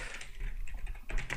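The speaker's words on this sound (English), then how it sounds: "Oh, it's easier to type." Quick, light keystrokes clatter on a computer keyboard during a MySQL tutorial. It is a short, faint burst of several taps with no one talking.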